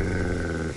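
A dog in the video game Postal 2 growls, a low, continuous rumbling snarl held steady for under a second before it fades at the end.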